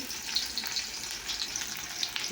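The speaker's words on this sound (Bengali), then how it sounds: "দেখো তেলটা গরম হয়েছে, এবার পেঁয়াজটা দিলাম" Chopped onion sizzles as it hits hot oil in a pan, giving a steady close crackle with small bright pops scattered throughout and no voices.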